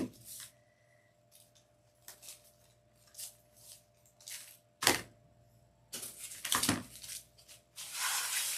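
Scissors snip ribbon for a Halloween witch swag bow at a craft table, a few separate cuts and rustles spaced irregularly, fairly close and moderately loud, with no talking.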